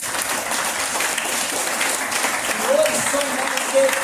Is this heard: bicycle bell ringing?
no